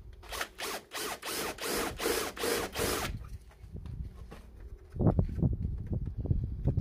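A step drill grinds through material on a Honda Civic Type R (FN2) in a rapid series of pulsing bursts for about three seconds, then stops; rougher handling noises follow.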